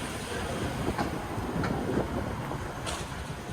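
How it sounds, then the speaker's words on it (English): Two trains rumble past a level crossing on the Kyoto line in Japan, a steady rolling roar with faint clicking from the rails that holds for the whole stretch, heard close by with no talk. "Two trains going by."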